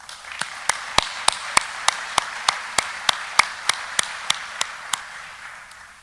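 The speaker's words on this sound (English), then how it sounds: "Please, let's give them a big round of applause." Sharp, evenly spaced claps ring out one after another against a steady hiss, a single pair of hands keeping a regular rhythm for several seconds.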